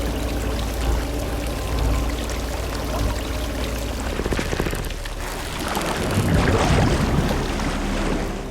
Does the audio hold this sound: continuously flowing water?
yes